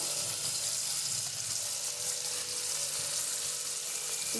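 Ghugni spices sizzling in hot oil in a pan, a steady, even crackle that holds close and fairly loud throughout, with faint clinks of stirring and no voices.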